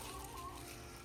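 Backyard garden chickens cluck and squabble while fighting over food, a soft, steady jumble of fowl calls at close range.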